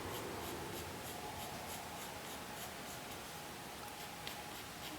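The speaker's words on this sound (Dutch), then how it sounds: "het is echt wel leuk om met pen en inkt te werken" Pen and ink drawing hyacinths on paper makes a continuous faint scratching of the nib, steady and close with no voices.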